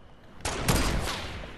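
Rapid burst of gunfire in the video game Fortnite, a sharp crackling volley that starts suddenly and rings on for about a second, loud and close with no talk over it.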